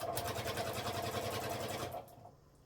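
A sewing machine stitches corner to corner across a fabric laptop sleeve in a fast, even, close-up whir, then stops abruptly near the end, leaving a brief quiet tail.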